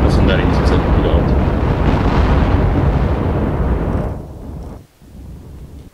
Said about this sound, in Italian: Ho visto delle esplosioni. Erano i missile launcher.